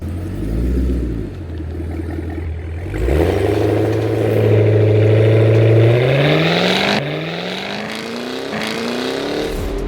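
A 682-horsepower Cadillac Escalade accelerates hard from a standstill, its engine note climbing steadily through the revs with a brief shift break, loud and close, then settling into a strong cruise rumble.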